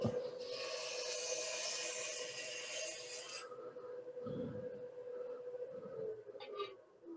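Wood lathe turning a piece at a wood turners' meeting as the top is trimmed, a steady close rasping cut lasting a few seconds, then the motor hum continuing under brief quieter scrapes.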